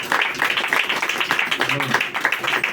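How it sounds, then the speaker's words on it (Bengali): A church congregation claps together in a steady, loud rhythm, a dense run of hand claps filling the space. "সবাই একটা জোরে হাততালি দিন তার জন্য"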